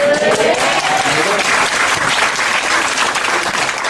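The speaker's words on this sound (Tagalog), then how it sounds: "Pumapalakpak na ako." An audience at a company business seminar applauds, producing dense, steady clapping from a crowd that fills the room loudly for several seconds without letting up.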